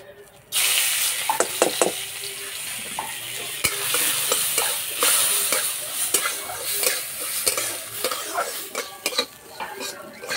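Steady sizzling of drained Gobindobhog rice frying in ghee in a wok, with frequent scraping and clinks of a spoon stirring in the metal pan.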